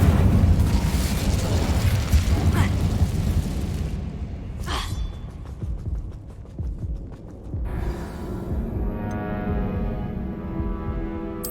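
Incendio fire-spell casting in the video game Hogwarts Legacy: a roaring, crackling burst of flame with sharp pops, fading to a lower rumble, then a second flare, all fairly loud and without speech.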